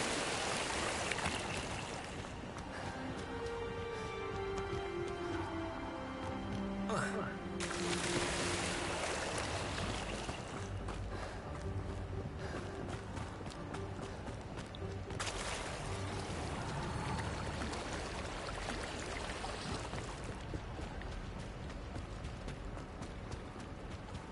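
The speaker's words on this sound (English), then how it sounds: "Just hop down a waterfall the entire time." Flowing waterfall water in the video game Hogwarts Legacy, a steady broad rushing wash that runs throughout with brief surges of splashing, mixed with faint game sounds.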